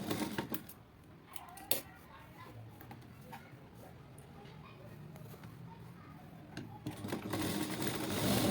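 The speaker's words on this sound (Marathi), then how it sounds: "पाठीमागच्या बाजूला आपण जे टक्स आखून घेतलेले आहेत ते पहिल्यांदा आपण टक्स मारून घेणार आहोत या पद्धतीने." A sewing machine stitches tucks into the back of a simple blouse, a steady close mechanical whir with a few sharper clicks and taps, growing louder near the end.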